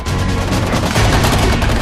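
Rapid gunfire during a military combat training battle, dense overlapping bursts and cracks that stay loud and continuous with no pauses.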